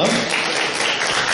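An audience applauds to welcome a guest at a film festival in Palić, a brief, steady wash of clapping that stays fairly loud throughout.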